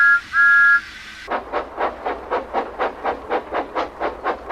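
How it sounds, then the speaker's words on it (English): Steam locomotive puffing as it pulls off toward a water tower, about a dozen evenly spaced exhaust chuffs in a steady rhythm, preceded by a brief high whistle-like tone, close and moderately loud with no talk. "I puffed off to the water tower and Billy followed behind, very quietly"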